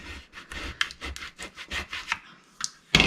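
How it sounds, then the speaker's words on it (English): A Cricut scraper burnishes a vinyl decal onto a glass mug, making a series of short, quick rubbing strokes in an uneven rhythm, close and fairly quiet, ending with a sharper scrape. "burnish it on and use the Cricut Scraper"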